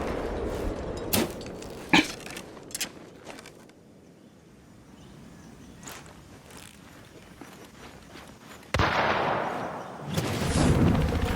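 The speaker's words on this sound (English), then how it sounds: "Just to kind of sit here, play around with the explosive arrows a little bit." Explosive arrows fired from the Phantom bow in a video game burst as sharp blasts at irregular intervals, with a louder, sustained rumbling explosion near the end.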